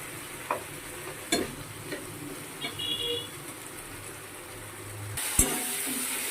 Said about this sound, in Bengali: এই যে বক বক করতে করতে পেঁয়াজটা একটু করে বেশি ভাজাই হয়ে গেল